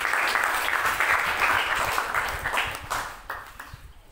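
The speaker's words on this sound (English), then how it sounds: "Let's clap our hands to Jesus." A church congregation claps hands at a service, a dense burst of applause that fades out over a few seconds.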